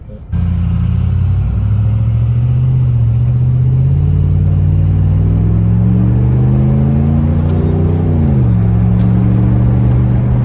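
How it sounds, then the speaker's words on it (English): A 2017 Ram 1500 with a Hemi V8 starts and rumbles loudly and close, revving up gradually, then dropping back to a deep idle. "I think it's hard to fuck up the sounds of an American V8"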